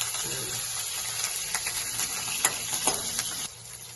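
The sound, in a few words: green chilies sizzling in tempering oil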